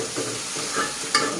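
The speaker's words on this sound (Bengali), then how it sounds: "তেল গরম হয়ে গেছে, আমি এখন পেঁয়াজ বাটা রসুন বাটা দিয়ে দিলাম" Onion paste and garlic paste frying in hot oil, a dense close sizzle with a few stirring scrapes and one sharp clink near the end.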